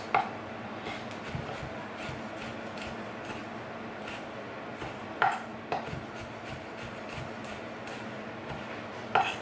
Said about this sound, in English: You don't want to cut them into too small pieces